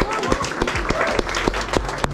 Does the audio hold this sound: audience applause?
yes